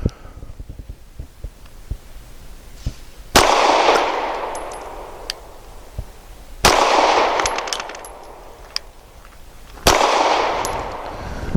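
A Grand Power Q100 pistol fires three loud, sharp shots at a target on an outdoor range, each a sudden crack with a long booming decay, spaced about three seconds apart with quiet clicks and handling noise between them.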